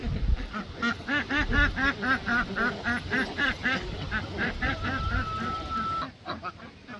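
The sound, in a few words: ducks quacking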